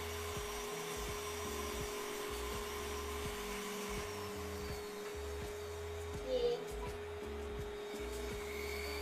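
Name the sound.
vacuum suction drawing up EVA foam chunks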